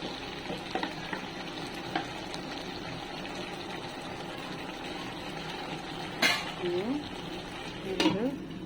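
Shrimp and ash gourd curry sizzling in a pan as it is stirred, a steady low frying hiss with a few scraping clinks of the spoon near the end.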